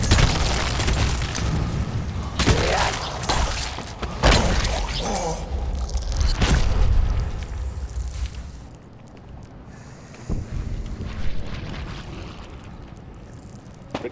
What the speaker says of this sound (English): the left mortar's reloaded